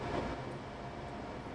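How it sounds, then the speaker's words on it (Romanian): Several trains roll out of a depot onto the line in a railway video game, a steady low rumble of wheels and engines at moderate distance with faint clatter, no voices. "Tocmai am cumpărat mai multe trenuri și le dau drumul să iasă din garaj pe linie"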